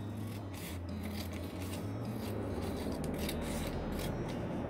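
Scissors snip through a paper sewing pattern for balloon-style harem pants, producing a steady run of close, dry crisp cuts and rustling paper, with no talking throughout.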